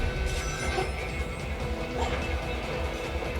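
In Sonic the Hedgehog 2006, a train rolls past with a steady, heavy rumble and a broad mechanical roar that holds evenly throughout.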